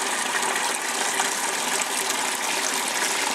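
Wort runs in an even flow through a mash of grain on a home brew day, giving a steady, close, continuous watery hiss with no talk.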